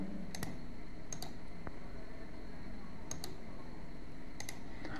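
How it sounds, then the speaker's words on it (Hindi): A computer mouse on a PC clicks in quick pairs and short bursts, sharp and close, spaced a second or so apart over a quiet background hum. "उसके लिए दोस्तों आपको किसी भी ड्राइव पे राइट क्लिक करके प्रॉपर्टीज में ही जाना होता है।"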